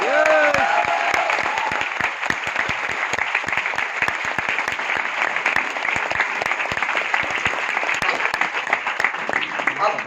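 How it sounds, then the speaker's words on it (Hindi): Audience at a gathering in Virar bursting into loud, dense applause that carries on steadily for about ten seconds, with a brief voice at the very start. "मैं चाहता हूं जोरदार ताली हो"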